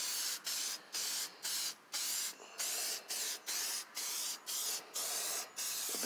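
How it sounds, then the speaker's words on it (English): Repeated short bursts of Meguiar's Ultimate Tire Coating aerosol sprayed onto tires, about a dozen hissing blasts in a steady rhythm with brief pauses between, close and fairly loud. "Spray is pretty smooth at that."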